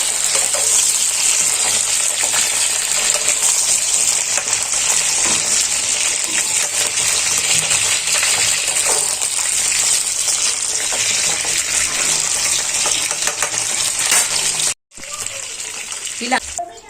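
Cut brinjals fry in oil in a kadai, a loud, constant close sizzle with bubbling and crackle, broken by a brief gap near the end.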